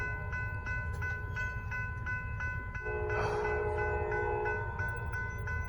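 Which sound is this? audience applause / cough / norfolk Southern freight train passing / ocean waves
norfolk Southern freight train passing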